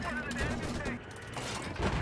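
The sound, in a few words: LAV cannon fire in the video game Battlefield 4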